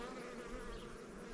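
Honey bees drone in a steady, soft buzz at an opened hive, a continuous faint hum with no other sounds.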